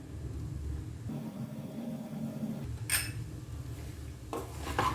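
A utensil scrapes and clinks against a pan while chicken fried rice gets a final stir, close and steady, with a few sharper metallic taps over a low background hum.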